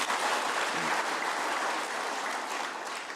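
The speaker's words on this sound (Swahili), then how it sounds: "Mujipigie makofi tena." A crowd at a public gathering in Tharaka Nithi, Kenya, breaks into steady, dense applause that holds at an even level for about three seconds.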